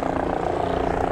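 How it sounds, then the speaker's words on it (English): A helicopter on a local sightseeing tour near a wharf thrums overhead with a steady rotor pulse and engine drone, loud and continuous for about a second. "So this helicopter is one of the local tours that you can do"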